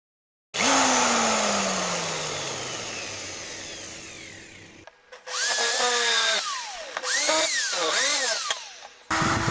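A power drill whirs loudly and winds down, then grinds in bursts with pitch rising and falling as it bites into plastic, stopping abruptly.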